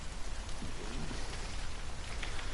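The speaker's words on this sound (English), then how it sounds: "As you can tell, it's raining" Steady rain falls in the survival video game The Forest, a dense, continuous hiss of drops with no breaks and no voices, loud and filling the whole moment.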